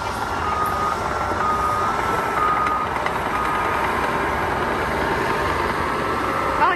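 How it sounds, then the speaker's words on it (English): Big trucks reverse nearby at a storage facility, with a steady electronic backup alarm beeping over a loud, continuous diesel engine rumble. "I think the big trucks are coming in,"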